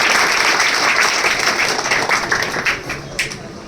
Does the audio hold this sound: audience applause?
yes